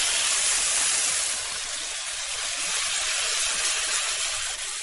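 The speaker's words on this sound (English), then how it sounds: "So please enjoy 6 seconds of sizzling bacon." Loud, constant hiss of bacon sizzling in a pan, close up and unbroken for several seconds, no voices.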